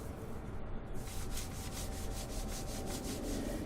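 A brush scrubs inside the narrow gaps of a car wheel, making rhythmic, close rubbing strokes that repeat steadily with no talking.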